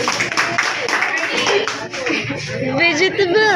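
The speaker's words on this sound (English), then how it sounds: "5 claps to Griffy." A classroom group claps in rhythm, a run of sharp, close hand claps mixed with voices and cheering throughout.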